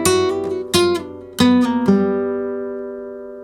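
A flamenco guitar plays a soleá phrase: a few strummed and plucked chords and notes, a final low note left ringing and slowly fading, close and clear with no voice.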